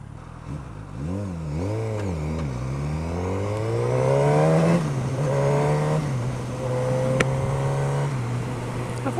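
A Suzuki GSX S1000 motorcycle on a test ride, its engine revving up and down in quick rising and falling sweeps before settling into a loud, steady, higher drone, heard close.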